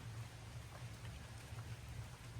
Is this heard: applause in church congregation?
no